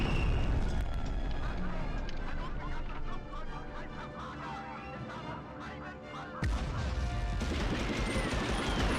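An F1 grenade goes off in Medal of Honor Underground, a World War II shooter, as a loud, sudden blast amid ongoing combat noise, sitting within a constant busy din of battle.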